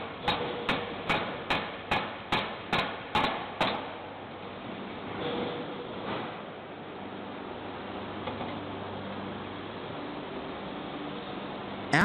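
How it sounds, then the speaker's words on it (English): A hammer forging machine flattens the round head of a steel eyebolt, striking about eight sharp, evenly spaced metallic blows before falling quiet into a low industrial hum. "In this machine, the round head of the eyebolt is flattened through the force of the hammer, imparting the desired shape to the component."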